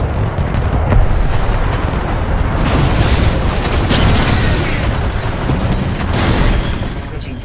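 A Titan crashing down from the sky in Titanfall 2 multiplayer: a sustained, dense roar of rumbling impact and debris, heavy and close throughout, with sharper crackling bursts layered in.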